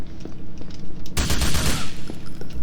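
Rapid automatic gunfire in the video game GTA 4, a loud burst of overlapping shots erupting partway through after quieter scattered pops, heard close with no talking.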